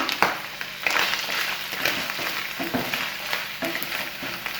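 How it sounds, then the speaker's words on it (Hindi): Chicken fries in about two tablespoons of oil in a pan on medium flame, giving a close, continuous crackling sizzle broken by bursts of stirring. "अब मैं इसमें ऐड कर रही हूँ चिकन। इसको फ्राई करना है।"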